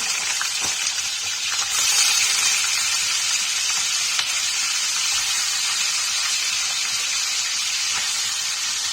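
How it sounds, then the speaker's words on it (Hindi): Butter and refined oil fry in a hot pan in a home kitchen, making a steady, loud, close hiss and crackle that continues without a break throughout. "तेल गरम हो गया, मक्खन और रिफाइंड फ्राई करेंगे"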